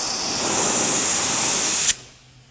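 Steady, loud hiss of a paint spray gun spraying Eastwood frame paint on an F450 truck build, running continuously and then cutting off abruptly near the end.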